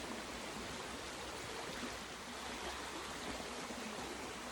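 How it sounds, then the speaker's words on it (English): A creek flows in a steady, broadband rush close by, with no talking, while water is scooped into a bag at a spot with some current along the Appalachian Trail. "Try and pick a spot where there's some current and get the best water I can out of there."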